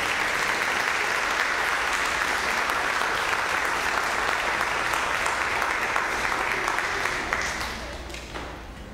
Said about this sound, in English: I think Sarah has earned a little bit of applause for everything she's done.